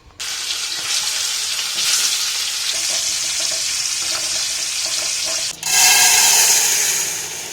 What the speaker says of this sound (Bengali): এখন এই মাছগুলো ভাজবো